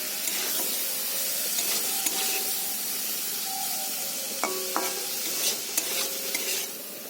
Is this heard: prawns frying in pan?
yes